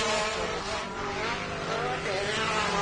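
A Pro Buggy off-road race car with an exhaust leak, running on three cylinders, drones steadily at a short-course race, mixed with a broad, continuous roar of track noise.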